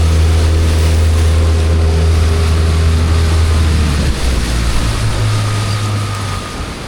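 A Bass Pro boat motors across a lake at about 14 mph with two aboard, its outboard droning loudly and steadily with wind and water rush, the engine pitch dipping near the end.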